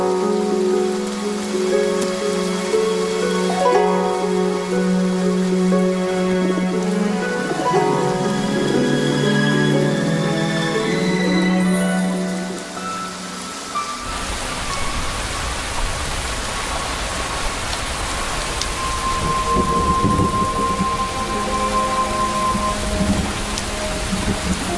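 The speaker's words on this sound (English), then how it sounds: "It's been raining for 7 days. It hasn't let up." Heavy rain pours steadily, and a low rumble of thunder rolls underneath it. Music plays over the storm at first before the downpour continues alone.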